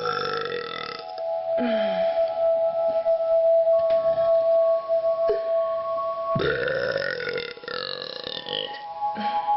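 Loud, drawn-out burps recur through the clip from a man styling himself a burping king, several long belches close to the mic with short pauses between them.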